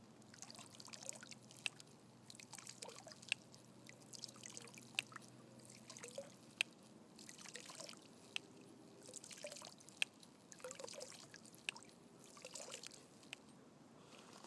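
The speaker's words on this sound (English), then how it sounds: "the reason you're pumping out 8 ounces is because the filter is ceramic filter" Water pumped by hand through a Katadyn Pocket ceramic water filter trickles and drips steadily into a container, a soft continuous dribble with faint periodic clicks from the pump, quiet and close, without speech.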